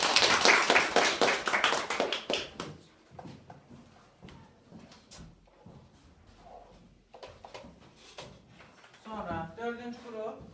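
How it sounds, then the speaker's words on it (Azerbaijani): Classroom applause in an eighth-grade maths lesson at a full secondary school, dense clapping loud at the start then fading out after a few seconds, followed by scattered sounds and a teacher's voice. "Alqışlayın."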